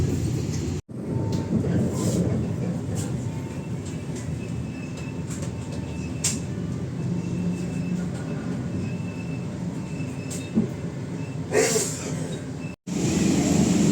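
KA Majapahit economy-class train running on rails, heard from inside the carriage as a steady loud rumble with brief high wheel squeals and short dropouts near the start and end.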